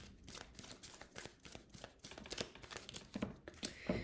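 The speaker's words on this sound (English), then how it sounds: "All right, let's shuffle together." Oracle cards are shuffled by hand, a quick close run of papery riffles and flicks that grows busier toward the end, with no talking.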